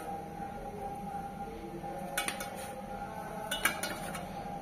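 A knife cuts a firm, fridge-set dessert into pieces, producing a few faint metallic clinks and taps against a dish over a steady low kitchen hum.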